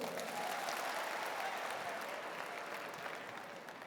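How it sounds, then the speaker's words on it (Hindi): A seminar audience breaks into strong, sustained applause, many hands clapping in a broad wash of sound that gradually tapers off, with a faint murmur of voices underneath. "जोरदार तालियां और बैठ जाइए।"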